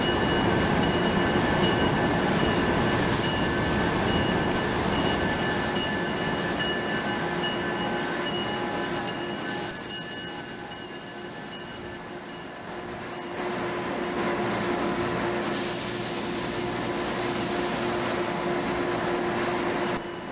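A PATH train runs in the Trainz railroad video game with a continuous rumbling, hissing drone and faint tonal whine, dipping briefly before rising again, and no voices.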